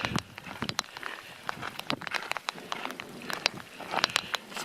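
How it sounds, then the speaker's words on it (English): Rain patters on a hiker and gear during a mountain storm, irregular close taps and crackles over a soft hiss, fairly faint and uneven. "that's the sound of rain"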